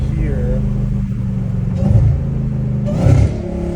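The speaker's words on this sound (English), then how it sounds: "Oh my gosh, those downshifts. Those downshifts are disgusting, dude." Dodge Hellcat Redeye with a catless exhaust, heard from inside while driving at night: a deep, loud engine rumble with two short blips as it downshifts, and someone talking over it.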